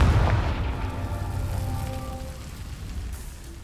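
In the video game Hogwarts Legacy, a Confringo spell explodes with a deep, loud boom. A rumbling tail follows and fades slowly into a low hiss, with no talk.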